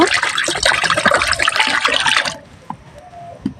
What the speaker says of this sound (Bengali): এবার আমি কড়াইতে কিছুটা পানি দিয়ে দেব ডিমগুলো সেদ্ধ হওয়ার জন্য